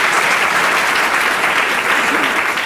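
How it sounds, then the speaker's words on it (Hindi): Studio audience applause on a televised quiz show, loud and dense continuous clapping from a large crowd lasting the full few seconds. "एक बार जोरदार तालियां हो जाए।"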